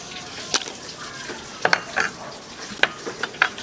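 Onion, garlic and ginger sauté in a pan with a low sizzle, punctuated by sharp, irregular clinks and scrapes of a utensil stirring against the pan; no speech.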